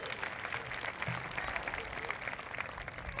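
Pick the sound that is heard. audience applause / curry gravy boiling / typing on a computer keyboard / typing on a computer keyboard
audience applause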